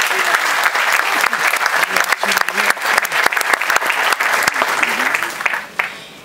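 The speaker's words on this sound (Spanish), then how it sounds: "Un aplauso para ellos." A large audience at a university speech gives loud, sustained applause, with dense clapping that carries on evenly before tapering off at the end.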